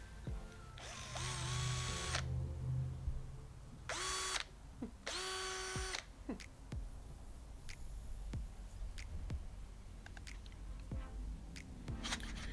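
A cordless drill, an Ozito 18V brushed or Milwaukee Fuel 12V, whines in several loud bursts drilling holes, revving up and stopping, followed by scattered clicks and handling noises nearby.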